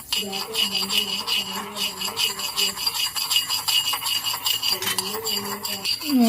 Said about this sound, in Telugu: ఇంకా ఒక 2 టేబుల్ స్పూన్స్ మెంతులు దోరగా వేయించుకోవాలి